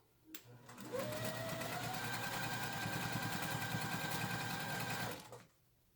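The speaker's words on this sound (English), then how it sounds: "I'm just going to flip it over, line up my edges, and I'm ready to start sewing." A sewing machine runs steadily for about four seconds, stitching quilt pieces with a fast, even mechanical whir and hum, starting and stopping cleanly with quiet before and after.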